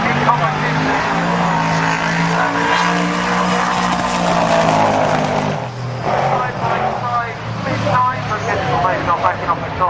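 Drag racing car at Bug Jam roaring past at full throttle, a loud sustained engine drone with shifting pitch, carried over a crowded outdoor track with a commentator talking over it.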